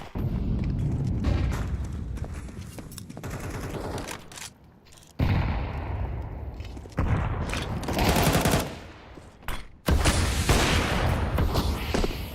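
Dense, loud volleys of Tech-9 pistol fire in a Counter-Strike esports match at the ESL Pro League, with sharp repeated shots broken by brief lulls.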